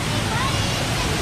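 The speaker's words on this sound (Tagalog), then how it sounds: "Napakalakas ng falls na to." Heavy water roar from a powerful waterfall at an amusement park, a steady broadband rush filling the whole short moment without any break or pause.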